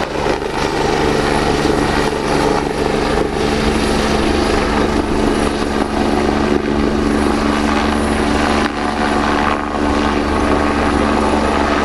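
A helicopter hovers overhead at an air show in Cholet, with a loud, continuous rotor and engine roar that stays steady throughout with no break.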